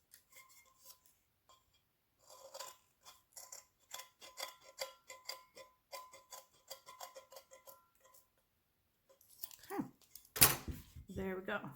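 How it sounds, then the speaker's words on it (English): Scissors snip around the rim of a glitter tumbler cup in a steady series of small cuts and rasps, close and fairly quiet, followed by a louder burst of handling noise near the end. "I'm just going to get my scissors and I'm going to go right around the rim of the cup."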